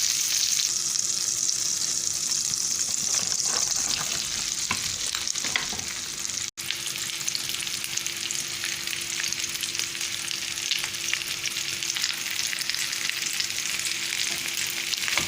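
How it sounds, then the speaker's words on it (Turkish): Steady sizzling of cooked doner meat frying in butter in a pan over low heat, a continuous close crackle with occasional stirring scrapes and one brief dropout midway. "dönerlerimizi tereyağımızın içine bıraktık. Kısık ateşte şöyle hafifçe bir kızartacağız."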